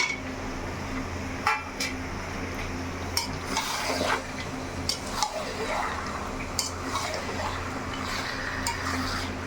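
Papaya stirred in a frying pan during village cooking, with a soft continuous sizzle under scattered scraping clinks of a utensil against the pan at an irregular pace.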